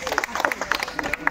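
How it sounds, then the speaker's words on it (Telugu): A crowd claps for prize winners at an event, with dense, uneven applause filling the whole moment at close range, with no talk. "ఒకసారి మీరు అందరు చప్పట్లు కొట్టాల్సిందిగా కోరుతున్నాం."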